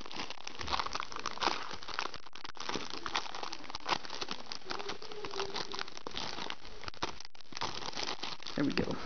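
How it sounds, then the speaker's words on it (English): Crinkling plastic bag being tugged open while unboxing a limited-edition card game set, a dense stream of crackling rustles running throughout, close and fairly loud, with a person speaking over it. "Darn you, plastic bag."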